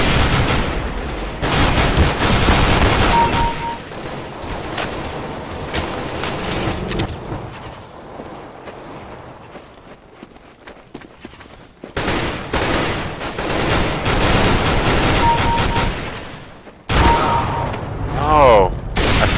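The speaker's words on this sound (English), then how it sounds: "I shot him in his kneecap" Sustained automatic gunfire from a Counter-Strike: Global Offensive team deathmatch, with dense, loud bursts that rattle for several seconds, dip into a quieter stretch, then resume in heavy volleys near the end.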